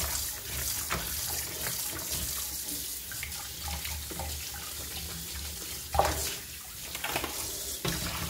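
Mutton liver being rinsed under a running kitchen tap, a steady close hiss of flowing water over a sink with small splashes and one brief louder splash partway through, no voices.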